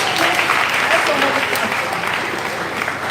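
A crowd claps steadily for a few seconds, a dense, even patter of many hands filling the room.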